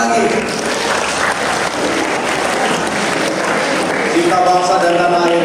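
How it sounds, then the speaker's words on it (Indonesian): Loud, sustained applause from a school audience at an Indonesian high school assembly, continuous clapping filling the room close by, with voices mixed in. "tepuk tangan lagi"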